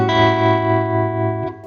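Electric guitar sustains a single slide-style blues chord with a light tremolo effect, ringing up close and steady before a slight slide in pitch at the end.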